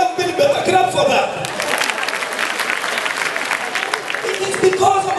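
A comedy show audience bursts into loud, sustained applause and crowd noise, with a voice speaking over the clapping.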